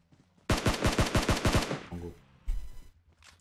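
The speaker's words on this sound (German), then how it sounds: "Es hat jemand geschossen." A rapid burst of about ten gunshots rings out close and loud in the battle royale shooter PUBG Mobile, followed after a short pause by another sharp shot and fading echoes.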